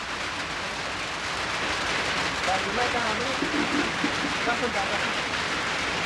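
Steady rain hisses down continuously while a voice talks faintly underneath.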